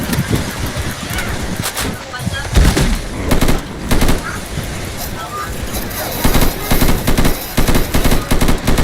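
Gunfire in the Left 4 Dead 2 campaign The Passing: repeated rapid bursts of automatic shots crackle throughout, loud and close, with players' voices talking over the action.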